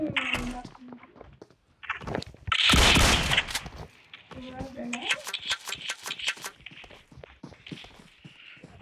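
Gunfire in the video game PUBG, sharp cracking shots and bursts of rapid fire with footsteps between, mixed with people talking.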